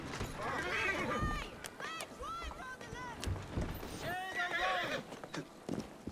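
In the Assassin's Creed Syndicate video game, a horse neighs repeatedly over clip-clopping hooves, loud and close, with a voice talking over it.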